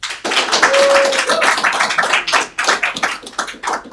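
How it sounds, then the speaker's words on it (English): A live studio audience at a television talk show applauds, with dense, sustained clapping for about four seconds that dips briefly near the end. A faint whistle-like tone sits under it. "I want a nice round of applause for Patrick Miller."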